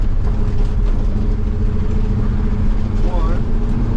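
A 1974 International truck pulls away in first gear, its engine a loud, steady low rumble that runs throughout while someone talks over it.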